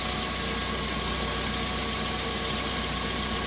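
A pink Ford Del Rey's engine runs steadily at idle with a melted, cut wire, giving an even, continuous hum with a faint rhythmic pulse and no voices.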